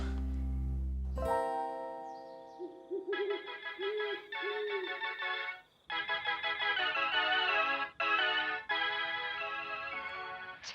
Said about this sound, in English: We are now the world's cheesiest ringtone.